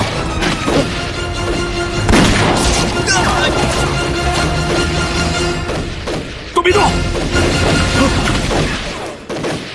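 Heavy gunfire and explosions in a Chinese war film battle against Japanese troops, loud crashing bursts and thuds throughout, with voices shouting over the fighting.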